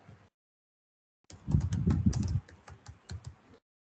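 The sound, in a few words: typing on computer keyboard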